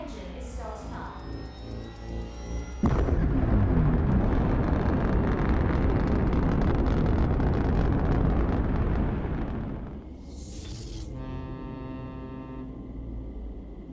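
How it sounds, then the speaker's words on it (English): An engine starts up with a sudden loud roar that holds steady and dense for about seven seconds, then fades into quieter tonal ringing and humming. "The engine is starting up."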